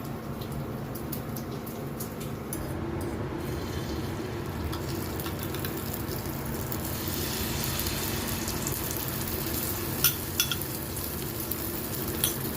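Eggs with feta cheese frying in a pan, a steady soft sizzle and crackle running throughout with occasional light clinks near the end, no talk.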